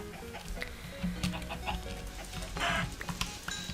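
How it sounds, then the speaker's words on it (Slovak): Chickens cluck in a Minecraft game, with short synthetic clucks repeating irregularly over a busy background of game sounds and music. "Ešte musíme zabiť ďalšiu sliepku."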